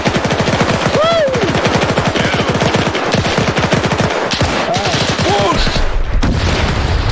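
MG-42 machine gun fire in Arma 3 during a WWII Battle for Berlin scenario: long, fast continuous bursts, loud and close, with brief pauses and a voice shouting briefly over the gunfire.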